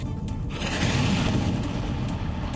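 A deep, rumbling boom from a missile strike rolls on as a sustained low roar, heavy and distant-sounding, with no voices over it.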